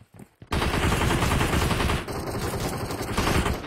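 Video game gunfire in a rush-style shooter match: a few quick shots, then a dense, loud, sustained burst of rapid automatic fire that runs continuously to the end, with no talking.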